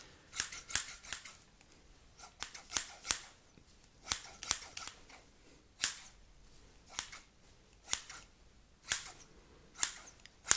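Sharp snipping of scissors, many quick cuts in irregular bursts, close and crisp with quiet pauses between.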